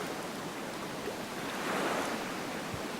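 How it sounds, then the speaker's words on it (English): Ocean waves wash against a sunny shore as a soft, steady hiss, with one gentle swell rising briefly toward the middle, faint and alone with no voices. "The water sounds good."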